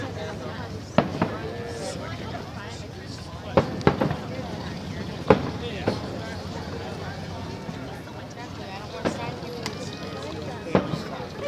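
A Canada Day fireworks display in Edmonton, 2013, heard as scattered distant bangs and pops arriving in irregular clusters, with people talking and murmuring throughout over outdoor crowd ambience.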